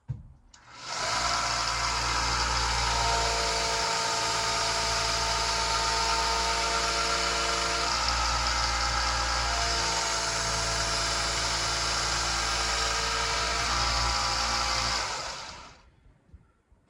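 Knife being sharpened on a 400 grit powered sharpener on a farm, a steady loud motor whine with a grinding edge that runs continuously for about fifteen seconds, close, then spins down.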